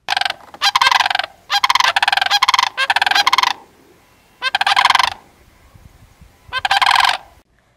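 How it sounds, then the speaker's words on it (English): Sandhill cranes on a ranch near Sheridan, Montana give loud, rattling, bugling calls in several close bursts with short quiet gaps between them, and no talking. "Out of all the birds on the ranch, the sandhill cranes were the loudest and easiest to approach."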